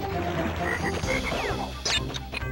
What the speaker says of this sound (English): Thank you, Mr. Frog, for hitting that for me.